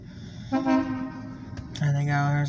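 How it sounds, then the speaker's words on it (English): An Alco diesel locomotive hauling a long freight train sounds its horn twice, a loud, sustained, chord-like blast followed by a second held tone, close by, with people's voices faintly beneath. "There they go, there's the horn."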